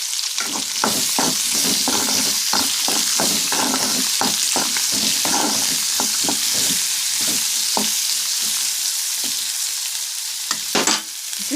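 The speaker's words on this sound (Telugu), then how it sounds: "ఉల్లిపాయలు వేసాను. ఇప్పుడు ఇవి మంచిగా ఉడకాలి. మంచిగా వేగాలి, వేగుతాయి." Sliced onions with curry leaves fry in a pan, a loud, dense, continuous sizzle close by with repeated scraping clacks of a spoon stirring throughout.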